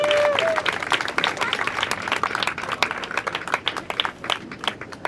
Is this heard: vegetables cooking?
no